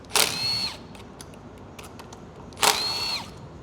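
Two short whirring bursts of a power tool spinning out transmission valve body bolts on a Ford 10-speed, each lasting about half a second with a high tonal whine, close and fairly loud, separated by quieter workshop background.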